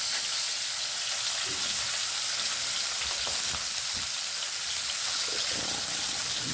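Ingredients for a squid stew with white squash sauté in a hot pan. A loud, steady crackling sizzle fills the whole stretch, with occasional soft stirring movements close by and no talking.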